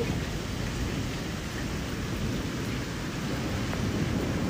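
Steady rain falls throughout, a dense, even wash of patter with no pauses, moderately loud and without voices.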